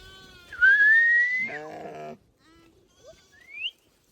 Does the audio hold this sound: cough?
no